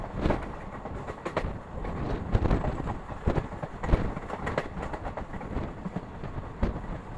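The Kannur–Ernakulam Intercity Express runs from Kannur toward Shornur Junction with a steady rumble and irregular clattering wheel knocks, heard close from on board with some wind buffeting.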